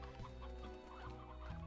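Chicken clucking in the video game Slime Rancher, a few close, clear clucks in quick succession over a steady low background hum.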